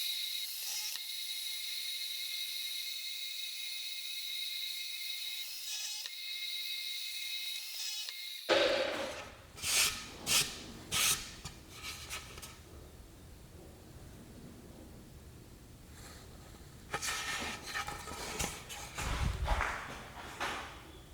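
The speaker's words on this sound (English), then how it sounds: "you just drilled 13 holes in about 5 seconds" A Maksiwa line boring machine drilling shelf pin holes in cabinet panels: a steady motor whine gives way to a quick series of sharp mechanical clacks and drilling bursts, then renewed clattering near the end.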